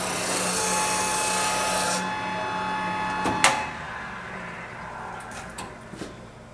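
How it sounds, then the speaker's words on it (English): A spindle sander works the inside curve of a wooden piece, its steady whirring grind running loudly for about two seconds before dropping off, followed by a sharp knock and a few lighter taps. "I'm going to use the spindle sander to sand my inside curve."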